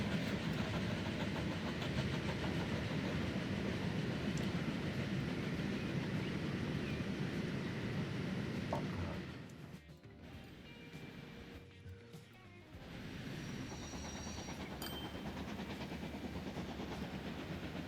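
Steam express trains running in Transport Fever 2, a steady dense rumbling roar with hiss that dips quieter for a few seconds midway before resuming, no voices.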